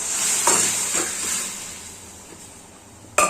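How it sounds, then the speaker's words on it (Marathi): Cooked dried cowpeas tipped into spices frying in oil, a loud hiss and sizzle that surges with a couple of stirring scrapes, fades, then flares up sharply again at the end. "आता ही जी शिजलेली चव आहे ना ती टाकून घेऊया"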